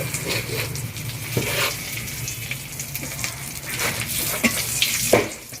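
Three bay leaves tempering in hot oil for a capsicum chicken curry, a steady crackling sizzle with occasional louder pops and stirring clinks, close and alone without talk.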